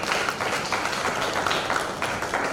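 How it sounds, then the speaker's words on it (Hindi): Audience applause at a historical stage drama, a steady, dense wash of clapping from a crowd that continues without pause, fairly loud and even throughout. "तालियां नहीं रुकनी चाहिए"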